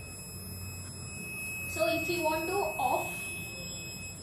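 The buzzer of an embedded ARM9 device-control project sounds as a continuous high electronic tone, while someone talks over it partway through.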